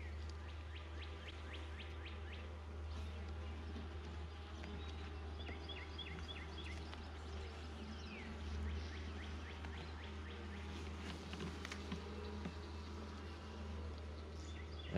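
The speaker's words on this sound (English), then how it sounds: "They'll have plenty of bees in here." Honey bees hum around an open hive while frames of capped brood are inspected, a faint, steady drone with scattered nearby buzzes and some bird chirps in the background, with no talking.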